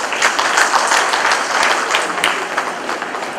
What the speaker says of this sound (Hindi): कवि भारतेंदु हरिश्चंद्र जी को याद करते हुए इन पंक्तियों पर जोरदार तालियां